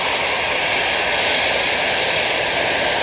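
An EasyJet jet airliner takes off at Manchester Airport, its engines a loud, steady broadband roar that holds without a break, with no voices over it.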